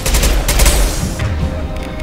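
Rocket fire and gunfire in the Mass Effect 2 video game, loud continuous bursts of shots and blasts filling the whole stretch, heaviest near the start.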